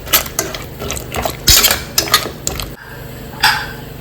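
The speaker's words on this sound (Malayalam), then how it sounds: "ഒന്ന് മിക്സ് ചെയ്ത് കൊടുക്കാം." A spoon stirs turmeric and salt into an ash gourd buttermilk curry in a pressure cooker pot, sharp close metal clinks and scrapes in an irregular rhythm with no talking.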